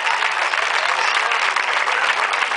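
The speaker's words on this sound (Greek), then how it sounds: "ένα μεγάλο μεγάλο χειροκρότημα για Εύη Χρήστου και Αρετή Τέζα" Sustained applause at a women's masters medal ceremony, a dense, steady clapping from a large crowd filling the space evenly without a break.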